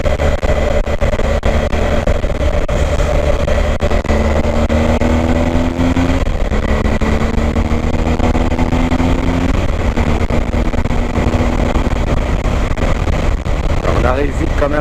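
A BMW R 1250 GS Adventure 2019 motorcycle accelerating, a steady loud engine drone with rising pitch sweeps through gear changes, mixed with heavy wind rush and someone talking over it.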